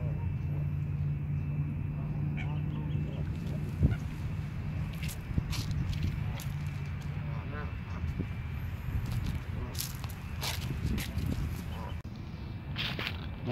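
Wild ducks at a park lake in California give scattered quacks and honks amid outdoor background noise and footsteps, while a person talks nearby.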